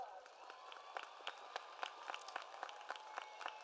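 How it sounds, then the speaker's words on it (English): Scattered applause from a crowd at a college of engineering commencement, individual claps spread unevenly, heard from a distance and fairly faint. "Let's give them a round of applause."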